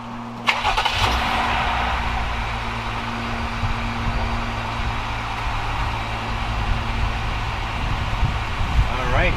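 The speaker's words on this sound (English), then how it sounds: "now we're going to turn on the Jeep and see if it activates" A Jeep's engine turns over and starts near the start, then settles into a steady idle that runs close by for several seconds.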